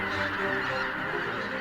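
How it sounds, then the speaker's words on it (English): Huge flocks of geese foraging in Poland's Biebrza wetlands, a dense, continuous chorus of overlapping honks heard from a distance. "Huge flocks of geese seeking food draw the attention of the biggest winged predator in Poland"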